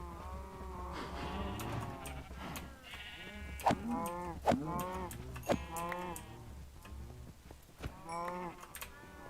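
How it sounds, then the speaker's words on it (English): Several loose livestock bleat and moo in overlapping calls, a few clicks and knocks mixed in, fairly close with no talk. "Quite a few cows have gotten out."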